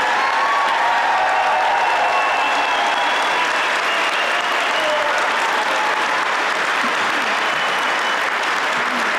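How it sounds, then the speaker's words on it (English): Loud, sustained audience applause for student winners at a school district recognition night, a dense, even roar of many hands clapping with faint cheering mixed in, holding steady throughout. "Would you join me in one more round of applause for all tonight's student winners tonight?"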